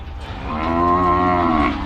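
A single cow gives a long, loud, close moo that swells and fades over about two seconds, with no talk over it.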